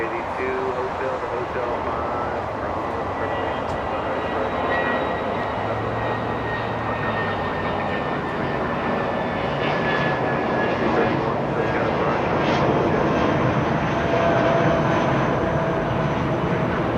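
An MD-80 airliner taxis at Los Angeles International Airport, its engines a steady, broad roar that swells slightly toward the end, with a person talking over it throughout.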